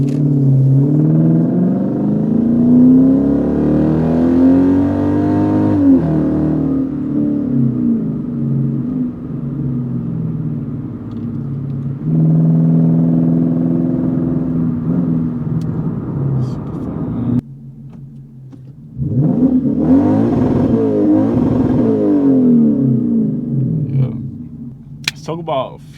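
A Lexus IS-F engine accelerating on the road, heard from inside the car: a deep, loud engine rumble that climbs through repeated revs and gear changes, with a brief lull before surging again. Someone talks over parts of it.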